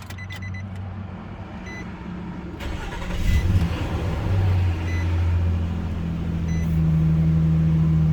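A car engine with a destroyed catalytic converter cranks and catches, then settles into a steady rumbling high idle with a slightly raised hum, close by.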